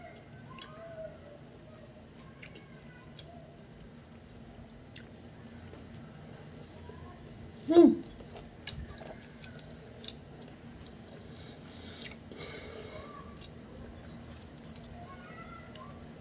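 Crunchy chewing of fried Philippine street food dipped in vinegar sauce up close, with a sharp crackling bite near the middle over a low background hum and faint distant sounds.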